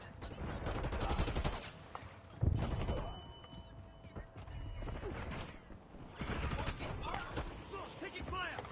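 Rapid bursts of video game gunfire crackle through a busy, dense battle mix, with louder volleys near the start and again toward the end, layered with mechanical clatter and game voice callouts.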